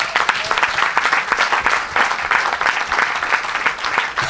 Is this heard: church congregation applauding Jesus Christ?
yes